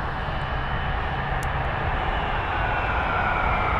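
DHL Airbus A300-F freighter jet engines roar overhead above the spotter bridge at Frankfurt airport, a loud, steady, broadband rumble that fills the whole stretch with no voices.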